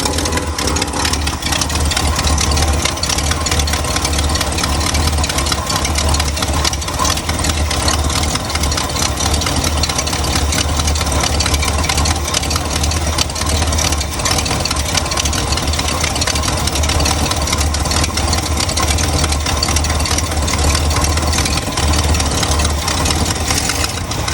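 A 1970 Cadillac hearse engine fitted with an Edelbrock 1406 carburetor idles steadily and loudly for the whole stretch, a dense, even rumble with slight roughness and no talking.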